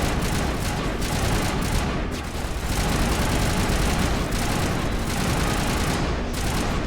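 Shepard's guns in Mass Effect fire in a dense, continuous burst, a loud, rattling stream of automatic shots that runs unbroken for several seconds with no talking over it.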